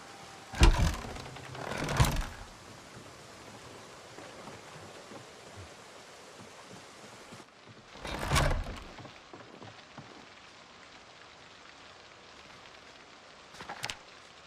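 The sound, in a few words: rain falling in a survival video game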